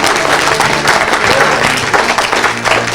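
An audience at an evangelical sermon bursts into loud, dense applause: sustained, overlapping clapping that fills the whole moment without letting up.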